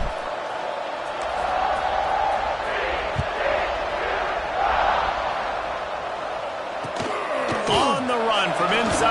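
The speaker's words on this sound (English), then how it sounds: "this crowd is buzzing after that last score" Crowd buzz fills a football stadium during a game broadcast, a steady roar of many voices under the commentary, with a few sharper bursts and thuds near the end.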